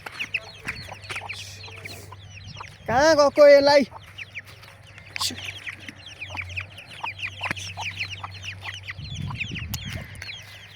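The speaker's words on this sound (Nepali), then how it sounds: "ठुलो कुखुरा हो, त्यो भाले लाउँदैछ" Local free-range chickens and a large rooster on a Nepali farm cluck nearby, with one loud, close burst of squawking, while someone talks over the flock.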